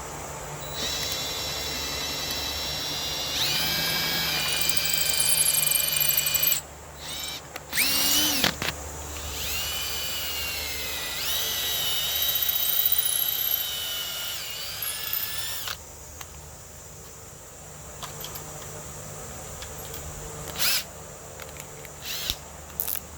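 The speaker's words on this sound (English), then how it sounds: "I'm going to try to drill this here." Power drill boring into a piece of wood at close range, whining in several long bursts that rise and fall in pitch, separated by short pauses and quieter gaps.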